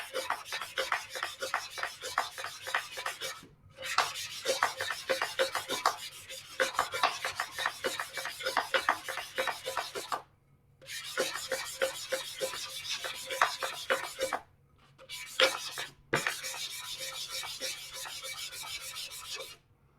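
220-grit sandpaper rubs by hand in circular strokes over a tumbler cup. The soft, scratchy strokes come in fast rhythmic runs, with a few short pauses between them, and there is no talk.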